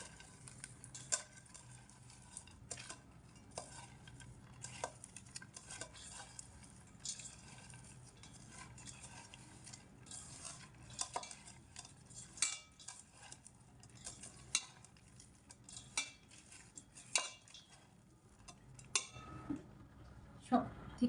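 Red lentil dal is stirred and mixed in a pot. A spoon clinks and scrapes the pot in repeated short taps, quiet and fairly close, with a soft background hiss all the way through.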